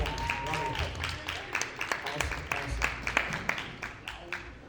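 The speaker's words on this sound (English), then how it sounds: "Round of applause." Audience applause at a panel discussion, a steady patter of many hands clapping at moderate volume with sharp individual claps standing out across the whole stretch.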